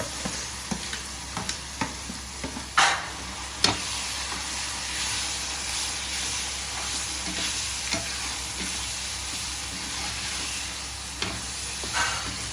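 Tomato chutney, ground smooth in a mixer, being stirred in a frying pan, with a steady close sizzle and repeated scraping strokes of the spoon against the pan, a few sharper clacks standing out.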